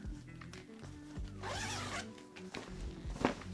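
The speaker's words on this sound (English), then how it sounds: "This is that weather sealed zipper" The weather-sealed zipper of a travel backpack is pulled open in a long rasping stroke, close and quiet, with some handling noises around it.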